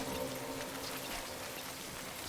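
Steady rain falling in Death Stranding, a continuous broadband hiss with scattered patter of drops, fairly quiet and heard alone.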